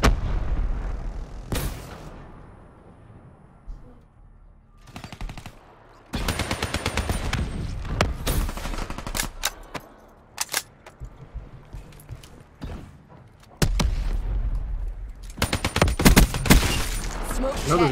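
Call of Duty Black Ops 3 gameplay with loud bursts of automatic gunfire, rapid clustered shots and longer sustained volleys separated by quieter gaps, and a voice talking over the action.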